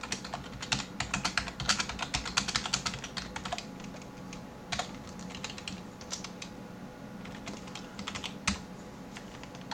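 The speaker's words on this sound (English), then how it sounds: "And if I type something in here" Fingers typing on a computer keyboard, a quick run of close, crisp key clicks that thins into scattered taps, with no voice over it.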